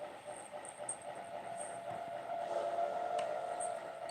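A freight locomotive rolls steadily along the rails, its low rumble constant, with a faint high whine and a sharp metallic click near the end, no voices.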